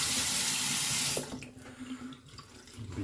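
A bathroom tap runs for rinsing off, a loud steady gush of water that cuts off abruptly about a second in, leaving faint drips and quiet rustling.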